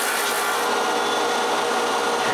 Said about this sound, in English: I sand up until the router bit marks are all gone